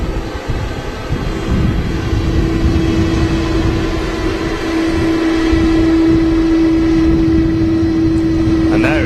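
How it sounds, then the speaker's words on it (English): A Turkish Airlines A330 taxiing on idle engines at Manchester Airport, giving a loud, steady roar with a droning resonant hum that rises midway, with some talk over it. "that resonant frequency from the idle engines on the Turkish"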